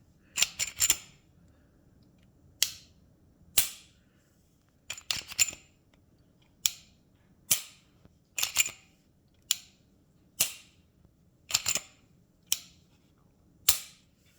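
Dry-fired trigger on a Glock-type pistol lower fitted with an SD-series upper gives sharp, crisp clicks for each break and reset, about fifteen in irregular pairs and singles, close and alone in a quiet room.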